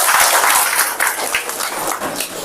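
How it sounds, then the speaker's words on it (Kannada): Employees applauding together in welcome at an office function, a dense, steady wash of clapping from a sizable crowd that swells and dips slightly, with no voices. "ನಮ್ಮ ನೌಕರರ ಒಂದು ಅದ್ದೂರಿಯ ಚಪ್ಪಾಳೆಯೊಂದಿಗೆ ತಮ್ಮನ್ನು ಕೂಡ ಸ್ವಾಗತಿಸ್ತಾ ಇದ್ದಾರೆ"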